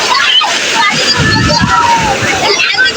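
Sea water surging and sloshing onto the shore at Thiruchendur, a continuous washing rush with low splashing swells throughout, loud and close, with voices and crowd noise mixed in.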